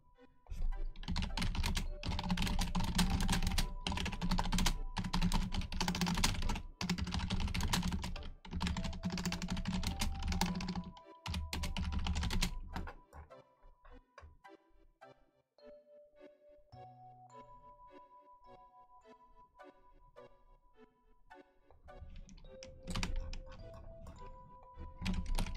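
Fast bursts of typing on a computer keyboard while writing a reply, dense clicking for about twelve seconds, a quieter stretch with light chimes and tones, then more typing.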